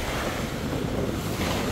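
Ocean waves wash steadily onto a sea glass beach in Curacao, a continuous broadband surf roar with some wind buffeting the microphone, fairly close and with no voices.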